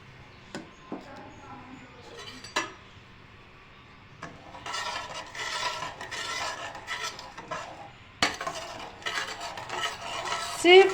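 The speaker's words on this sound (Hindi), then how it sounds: "सिर्फ 1 मिनट के लिए आपने हल्दी को ऑयल के अंदर फ्राई कर लेना है" Turmeric powder frying in oil in a kadai for a chicken gizzard (pota) dish, with a spoon scraping and stirring in irregular bursts over a soft sizzle, close and moderately loud.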